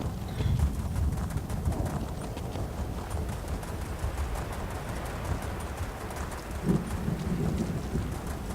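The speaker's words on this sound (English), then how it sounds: "the sound of thunder all the time is becoming tiring after a while" Thunder in a video game rolls in a long, steady low rumble beneath constant rain hiss, with a couple of slightly louder swells, heard without talking.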